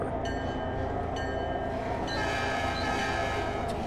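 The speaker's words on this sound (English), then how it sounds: "I gotta change the engine sound on these things." A locomotive engine sound from the Trainz train simulator game plays in a rail yard, a steady, loud diesel rumble with sustained tonal whines. The drone holds evenly throughout with no talk.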